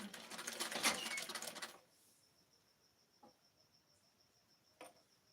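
A sewing machine stitches a blouse in a quick, busy burst of under two seconds, then stops, leaving near-silence broken by a couple of faint ticks.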